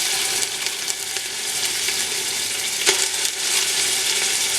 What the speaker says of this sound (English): So now what I'm going to do is add the garlic paste.